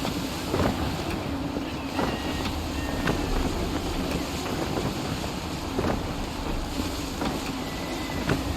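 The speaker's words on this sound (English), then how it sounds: "Gusty winds can be difficult to manage." Steady, gusty wind roars across open sea in Assassin's Creed III, with the rush and creak of a sailing ship underway. It stays loud and continuous throughout, with no clear voices.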